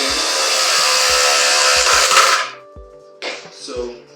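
A power driver sets a screw into a wooden TV console with a loud, close whirring buzz lasting over two seconds, followed by two shorter bursts as the screw seats.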